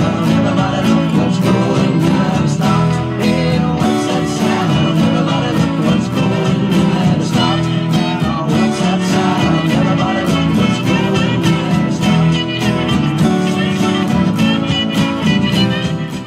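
Strummed guitar playing the repeated ending chorus of a song, a dense, steady rhythmic strum carrying on loudly and evenly throughout without any talking.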